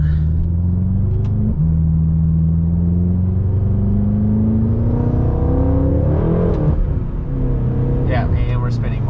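Modified BMW M6 accelerating hard with rear wheels spinning, a loud in-cabin engine drone rising steadily in pitch through gear changes while people talk over it.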